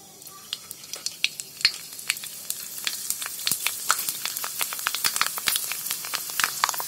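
Sundried kuravdi, semolina fritters, drop one by one into hot oil and fry with a loud, busy crackle of sharp pops and spatters that thickens as more pieces go in, with no talking.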